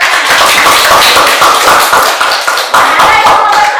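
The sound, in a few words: classroom applause for a classmate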